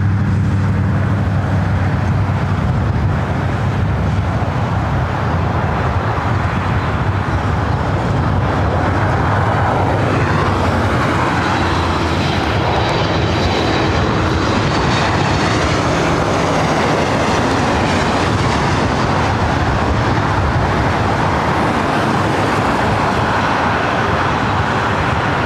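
A Boeing 737 MAX 8 airliner at LAX, a loud continuous jet engine roar that holds steady throughout, with broadband rumble and no voices.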